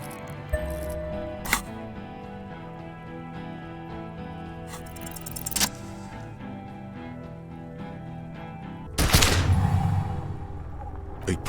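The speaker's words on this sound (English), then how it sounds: "A plume of smoke and fire erupts from the gun, and your hand goes numb from the explosion." A gun fires in the detective role-playing game Disco Elysium: one loud, sharp blast late on with a short decaying tail, over a quiet bed of ambient music with faint clicks.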